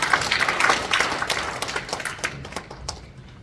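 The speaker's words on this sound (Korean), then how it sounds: "여러분 마이크를 해서 박수 한번 쳐주세요" Audience applause at an association general meeting, a dense patter of many hands clapping that starts strong and gradually thins out to scattered claps over a few seconds, with no talking.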